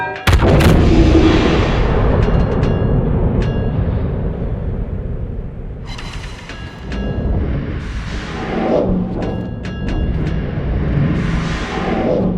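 Battleship main guns firing in the World of Warships game, with a deep, heavy booming roar that rolls on in long rumbling waves and layered blasts, loud and close, with no talk over it.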